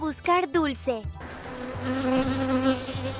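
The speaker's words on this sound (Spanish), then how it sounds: "Este es el sonido que hace una abeja." A bee buzzes in a steady, droning hum that rises and wavers slightly, heard alone and close after a brief spoken voice at the start.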